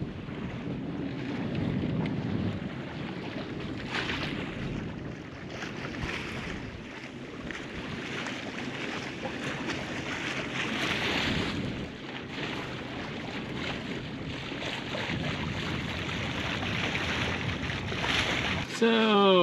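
A sailboat moves slowly through light wind at sea, with steady broadband wind rush and water wash throughout and microphone buffeting, no distinct voices.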